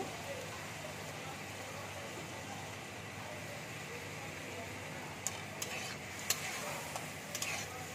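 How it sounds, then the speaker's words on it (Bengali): Spice masala with Kashmiri chili powder and a splash of water sizzles steadily in a pan for a mourala fish curry, a constant close hiss with a few light clicks and scrapes toward the end. "মশলাটাকে ভালো করে ভেজে নেব"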